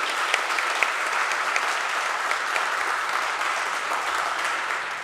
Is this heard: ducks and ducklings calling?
no